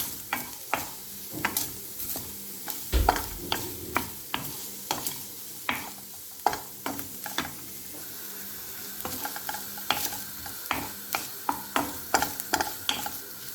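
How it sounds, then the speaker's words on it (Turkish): Butter melting and sizzling over high heat in a pan before shrimp are added, a continuous close frying hiss broken by frequent sharp pops and crackles, alone without talk. "Tereyağını da biraz kavuracağız."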